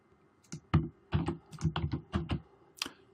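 Computer keyboard keys are pressed for copying and pasting, heard as short clusters of crisp clicks and taps with small gaps between them, quiet and close, with no talking.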